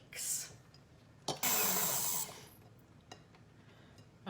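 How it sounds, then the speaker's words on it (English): An electric whisk whips egg whites for meringue, a loud steady whirring burst lasting under a second, with shorter faint clatters before and after. "to make our meringue, we're going to whisk the egg whites until they hold"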